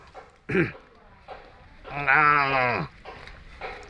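A voice imitates a newborn calf, one or two days old, with a short sharp cry followed by a longer, wavering bleat-like call, close and clear against a quiet background.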